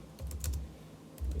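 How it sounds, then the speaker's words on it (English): Keys clack in a quick rhythm on an iPad keyboard, a handful of close, soft taps over a low background hum, with no voices. "I'm just going to type"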